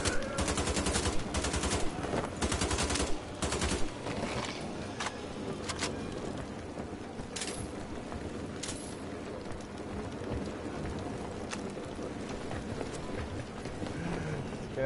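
Dense gunfire in the video game Wolfenstein: The Old Blood, loud rapid bursts early on that settle into steady, busier mid-level shooting with scattered sharp reports.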